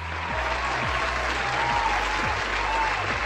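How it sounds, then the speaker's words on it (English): A steady wash of crowd applause fills the whole short stretch at an even level. A faint tonal hum runs underneath it. "Let's just take a moment to just clap."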